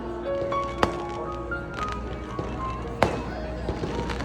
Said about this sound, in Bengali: আমরা দেখতে পাচ্ছি যে আমাদের ক্যান্ডিডেটের জন্য আতশবাজি হচ্ছে